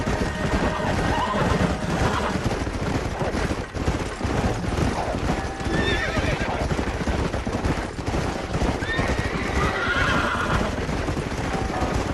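Horses in the video game Red Dead Redemption, their hooves clip-clopping steadily with a neigh or two, mixed into a busy game soundtrack with crashes and gunfire-like bursts and no talking.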